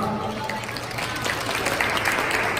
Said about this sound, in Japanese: ぜひスナチュに温かい拍手をお願いします